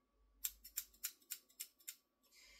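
Small lollipop-shaped scissors snip through cardboard in a quick run of about eight crisp, evenly spaced cuts, close and clear against a quiet background, ending in a soft rustle.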